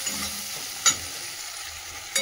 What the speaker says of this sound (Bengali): একটু জল দেবো মশলাটা কষানোর জন্য, মশলাটা কষিয়ে দিই